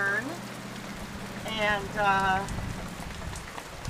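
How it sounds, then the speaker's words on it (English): Steady rain pours outdoors among trees with leaves just starting to turn, during a stormy tornado-watch day in New York; a broad, constant wash of falling water with a voice speaking briefly over it. "so it's just raining right now."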